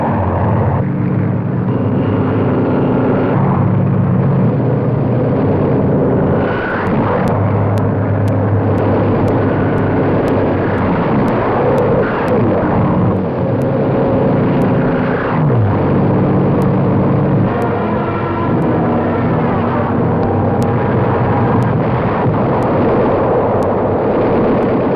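WWII Allied invasion aircraft over Normandy, a loud, continuous drone of massed propeller engines with rumbling explosive bursts, heard on an old newsreel soundtrack with narration running over it.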